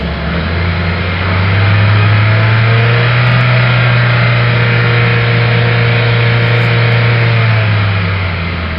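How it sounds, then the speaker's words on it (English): A car engine revs up and holds a steady high drone, loud and close, then eases slightly toward the end. "you can hear they rev the cars up for you if it has an engine noise"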